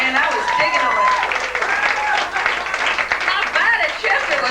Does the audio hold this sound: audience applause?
yes